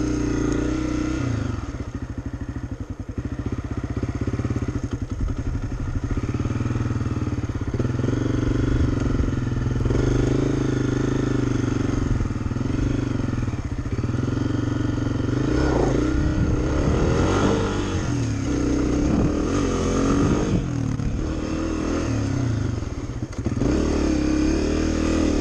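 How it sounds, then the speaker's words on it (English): A 2023 Honda CRF250F farm motorcycle climbing a hill off throttle, its single-cylinder engine a steady, close, loud chugging drone with slight rises and dips and some mechanical clatter, no talk. "The bike has basically brought itself up the hill."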